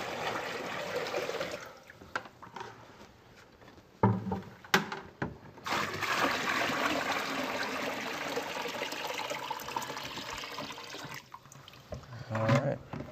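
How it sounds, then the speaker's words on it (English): Water pouring and trickling steadily into a basin being filled with about 10 gallons to give head pressure to sprayers, a continuous rushing wash with a few knocks and clunks partway through. "our first step right now is going to be to fill the basin with some water"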